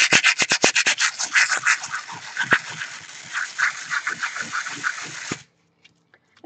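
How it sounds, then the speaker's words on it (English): Rapid, rhythmic rasping strokes of sandpaper rubbing a handmade greeting card, close and loud, continuing for several seconds before stopping abruptly. "what happens when you sand this with the sandpaper is you can get white dots"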